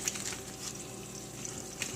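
Butter and marshmallows sizzle softly in a pan, a faint, continuous crackling hiss with a few brighter spits, heard up close and alone for a couple of seconds.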